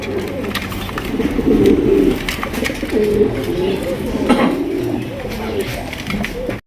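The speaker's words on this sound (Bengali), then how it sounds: "লাখা কবুতর কিন্তু সচরাচর ওইভাবে ডাকে না ডাক দেখেন ভাই" A lakha pigeon coos in repeated low, throaty phrases close by, while someone talks over much of it and faint background noise continues.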